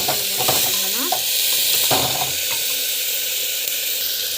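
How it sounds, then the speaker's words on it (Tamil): Onions with garlic, mustard seeds and cumin sauté in a pan for a village-style drumstick thokku, giving a steady close sizzle and hiss with light stirring scrapes. "ஸோ வெங்காயம் போட்டுக்கிட்டு நல்லா வந்து வதக்கும்."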